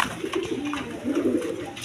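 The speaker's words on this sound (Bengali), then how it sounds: "দেখেন একদম বিগ সাইজের কবুতর, ছটপটা কবুতর" Big pigeons coo in soft, rolling low calls that repeat and overlap, close and steady, with faint background noise.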